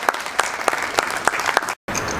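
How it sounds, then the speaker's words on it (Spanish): An audience at a book fair poetry reading in Viña del Mar applauds with steady clapping, briefly cutting out near the end before resuming. "Un aplauso para la autora."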